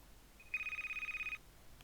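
A phone in the Toca Boca World video game rings with one short, rapid electronic trill of evenly pulsing beeps, clear but fairly quiet against a faint background.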